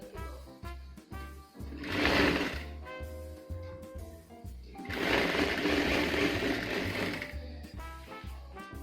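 A sewing machine stitches kurti fabric, with rhythmic mechanical thumping and bursts of louder whirring in two main runs separated by a quieter pause.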